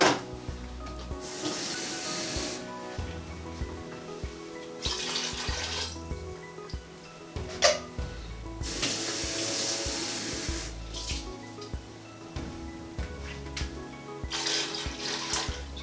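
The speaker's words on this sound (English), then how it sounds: "what I'm going to do is just fill both of them with water" Tap water runs into two emptied chopped tomato tins to rinse them out, a steady hissing pour in several bursts, stopping and starting, with faint clinks of the tins between fills; no talking.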